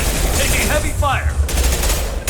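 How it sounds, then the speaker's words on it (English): Gunfire in the video game Mass Effect 2: a loud, close burst of rapid shots and whizzing effects in a heavy firefight, ending with further sharp bursts. "Taking heavy fire."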